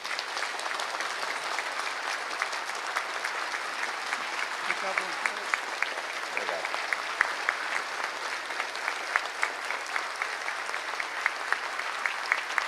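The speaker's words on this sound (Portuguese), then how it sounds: "Eu queria que você recebesse o presidente Temer com a duradoura salva de palmas." Long, sustained applause greets President Temer at an evangelical gathering, a steady roar of many hands clapping that carries on evenly for over twelve seconds, with voices murmuring underneath.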